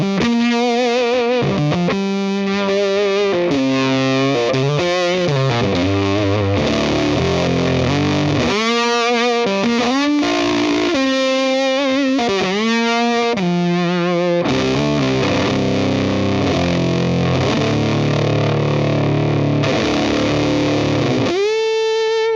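An electric guitar through a fuzz pedal at full volume, playing thick, gnarly, gritty distorted riffs and sustained chords that ring loud and close for over twenty seconds without pause.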